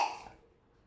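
A single short cough, close and fairly soft, fading quickly into quiet.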